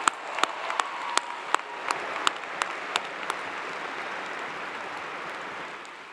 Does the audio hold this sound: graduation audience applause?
yes